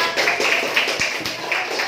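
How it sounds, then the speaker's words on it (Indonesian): A sixth-grade classroom gives dense, steady applause for the students, a continuous wash of many hands with children's voices mixed in. "Beri tepuk tangan yang sudah kompak."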